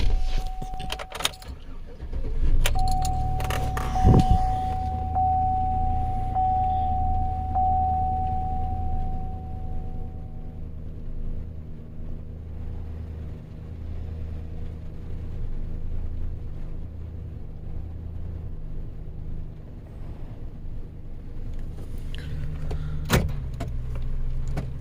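A 2010 Chevrolet Silverado with a 5.3L engine is started: clicks and a brief whine give way to the engine catching, then a steady low idle hum with a faint tone above it, and a sharp click near the end.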